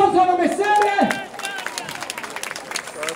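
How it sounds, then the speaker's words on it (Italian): Audience applause at an outdoor summer athletics event in Oria, Italy: after a raised voice rings out, a dense run of clapping breaks in and carries on steadily to the end, with crowd voices mixed in. "Vai, un applauso a Messere!"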